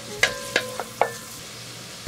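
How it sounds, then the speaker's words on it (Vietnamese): Shallots and garlic sizzle in melted peanut butter in a pot, with a few sharp clinks and scrapes of a utensil stirring over a soft frying hiss. "Phi lên cho thơm."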